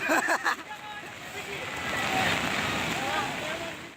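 Rushing floodwater sweeps a van along in a strong current, a continuous loud roar of churning water with wind noise and some low rumble throughout.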